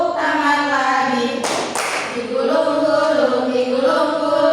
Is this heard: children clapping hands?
yes